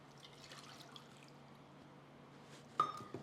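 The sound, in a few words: pouring water into a pot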